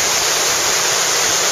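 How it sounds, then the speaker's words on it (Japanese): Nijo Falls, a waterfall in the Hidaka mountains on the route to Mount Satsunai, roars as a steady, loud, dense rush of falling water, broadband and unbroken throughout with no voices. "これが二条の滝です。"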